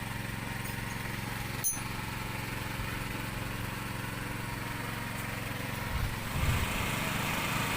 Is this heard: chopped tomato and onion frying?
no